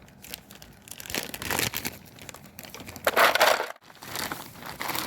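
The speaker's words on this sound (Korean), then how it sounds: "지퍼팩에 얼음을 담아주세요" Ice is tipped into a plastic zipper bag for homemade ice cream, giving close crinkling plastic and rattling, clattering cubes in uneven bursts, with a louder crunching rush near the middle.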